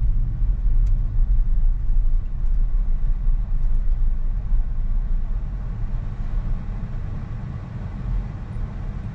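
A Tesla running Full Self-Driving 12.5.4 gives a steady, loud low rumble of road and cabin noise that carries evenly throughout, with no talking.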